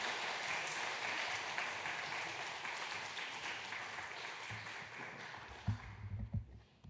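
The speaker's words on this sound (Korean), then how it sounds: "우리 박수로 한번 환영하시겠습니다" Congregation at a Wednesday church prayer service applauding to welcome a visiting pastor: steady, dense clapping from a full room that thins and fades toward the end, with a few louder close claps and low rustle at the finish.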